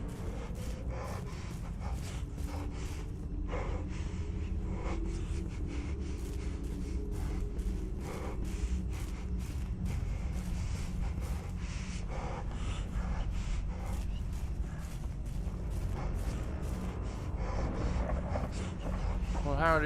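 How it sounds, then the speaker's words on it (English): Heavy rhythmic breathing comes from a tree in a horror video game, with gasps and snorts repeating steadily over a constant low rumble. A voice talks over it throughout. "The tree is breathing so heavily."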